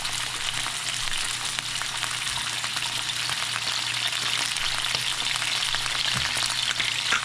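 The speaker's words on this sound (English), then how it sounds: "now we are going to place the fish in the pan gently so it doesn't fall apart." Chilean sea bass searing in a hot pan, a continuous crackling hiss of frying oil with fine popping spatters, steady and close throughout, with no one talking.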